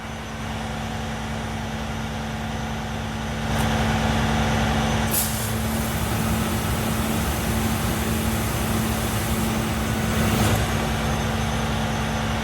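The oil burner blower fan on a hot water pressure washer whirs with a steady hum and broad airy rush, growing louder after a few seconds, with brief clicks and hisses along the way.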